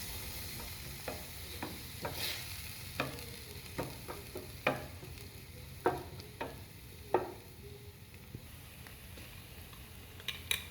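Pasta mixture with chopped fish chillies stirred in a pan, a soft background sizzle broken by a series of sharp, separate utensil taps and scrapes spread through the passage.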